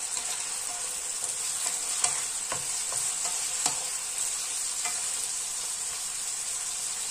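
Food being stir-fried in a pan with dark soy sauce, vinegar and sugar, a constant bright sizzle with soft scrapes of the spatula now and then, close up and steady throughout.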